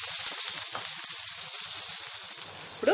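Green chili pieces sizzle and fry in a pan, a steady close hiss that runs unbroken throughout with no talking.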